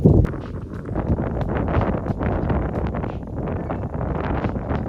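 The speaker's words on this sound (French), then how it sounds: "il y a beaucoup de vent" Gusty wind buffets the microphone in a continuous low rumble, loud and close, with faint rustling and occasional thuds.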